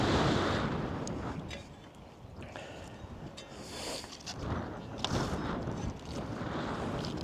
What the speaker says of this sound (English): God, that wind.